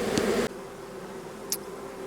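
Honeybees hum at a hive entrance after a shaken swarm; a louder burst of close buzzing cuts off abruptly, leaving a soft, steady drone of a few bees with a brief sharp sound partway through.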